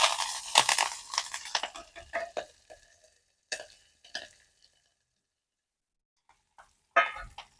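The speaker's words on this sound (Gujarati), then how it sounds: "એની અંદર આપણે નાખી દેવું મીઠો લીમડો અને મરચાં" Curry leaves and green chillies dropped into hot oil with spluttering mustard seeds crackle in a loud opening burst of sizzling that soon fades, followed by scattered short pops and a final brief crackle.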